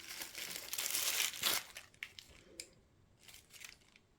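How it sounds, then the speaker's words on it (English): A plastic bag of leftover resin squeezed by hand over a mold, loud crinkling and crumpling for the first second and a half, then fainter intermittent rustles, up close with no talk. "Gotta regroup here and squeeze my bag."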